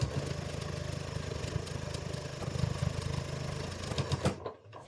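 A sewing machine runs steadily while stitching quilt binding about an eighth of an inch from the folded edge, with a fast, even needle rhythm and a few clicks as it slows and stops near the end.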